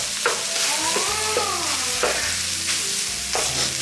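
Breakfast pizza food being mashed and cooked in a pan, a continuous close sizzle with a few utensil scrapes and taps against the pan.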